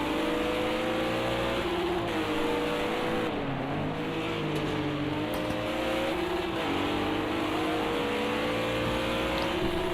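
GT3 race cars including a Lamborghini in a racing video game, engines loud and close, revving and shifting up and down in a continuous snarl through corners, with a brief tire squeal.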